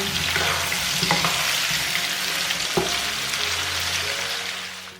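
Pork belly stir-fried with soy sauce, oyster sauce, rock sugar, salt and pepper gives a steady, close sizzle throughout, with a few sharp spatula scrapes against the wok.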